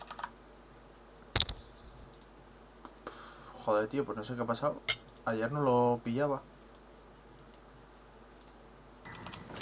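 Soft clicks of typing on a computer keyboard come through faintly in a quiet room, while someone talks over them in the middle of the clip.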